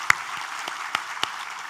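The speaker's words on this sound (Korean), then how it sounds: "우리 하나님께 감사와 영광의 박수를 돌리겠습니다." A church congregation clapping during a Sunday worship service: a few sharp, scattered hand claps over a soft background hum, with no sustained ovation.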